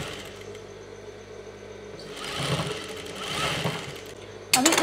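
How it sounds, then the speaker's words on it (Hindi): A sewing machine stitches lace onto the hem of an Afghani salwar, starting faintly with a low hum, then whirring louder in two surges and ending on a sharp burst. "अभी इसको ढकते हुए हम इसके ऊपर सिलाई लगा देंगे।"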